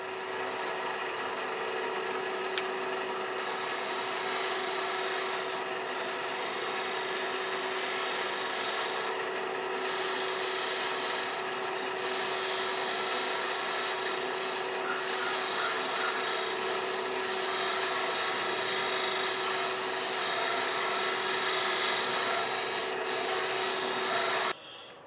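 A turned wooden jar is sanded while it spins on a lathe: a steady, continuous abrasive rubbing that runs unbroken and fairly loud, with no talking over it.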